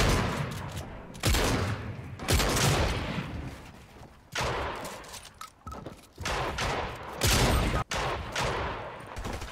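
Video game gunfire in dense bursts of rapid shots, loud and close, with short gaps between volleys.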